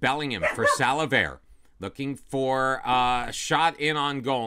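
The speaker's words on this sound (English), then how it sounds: "Apologies for the dog." A dog barks and yips several times close by, mixed in with a man's continuous, excited football commentary.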